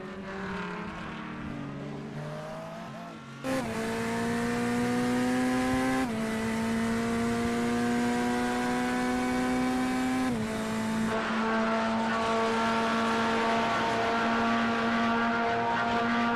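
Race cars during an iRacing 12-hour endurance race at Bathurst, with a steady high engine whine that shifts pitch at each gear change and continues loud and unbroken throughout, with no talking.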